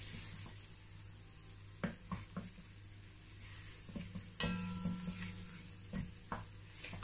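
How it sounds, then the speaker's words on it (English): Butter melting and sizzling in a pot, a constant close frying hiss broken by several sharp clinks and scrapes of stirring. "I'm going to add my butter, about this much. I'm going to allow this to get melt."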